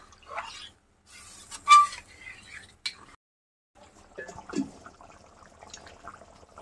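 A pot of beef curry is stirred and then covered with its lid. A few faint scrapes, soft wet sloshes and a brief metallic clink are scattered through an otherwise quiet kitchen.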